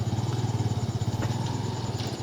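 Motorcycle engine running near a badly damaged bridge, a steady low idling putter close by and moderately quiet, with no talk.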